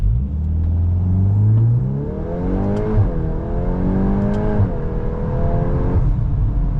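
A 2025 Volkswagen Golf R with a 4-cylinder engine and dual-clutch gearbox accelerates hard, its loud, close engine note rising and dipping through several quick gear changes, with no talking.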